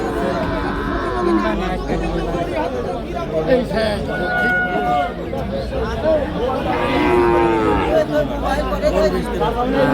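Cattle at a village livestock market where local-breed bulls are being sold, with low mooing heard under loud crowd chatter and bargaining voices throughout.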